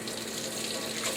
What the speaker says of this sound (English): I'm going to dash it under cold water, but I have to go to the sink.